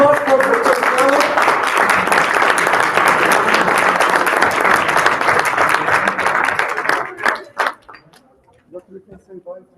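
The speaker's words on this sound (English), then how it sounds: "Another big applause for Dr. Stanley." Audience applause for a dentist at a live talk or event, loud sustained clapping for about seven seconds that then breaks off into scattered claps and quiet room noise.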